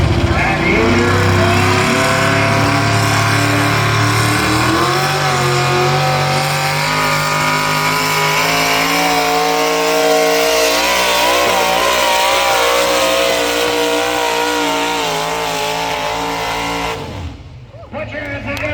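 A single engine modified tractor roars loudly at a tractor and truck pulling event, its engine note climbing and straining in a sustained howl before cutting off sharply near the end, with an announcer talking over it.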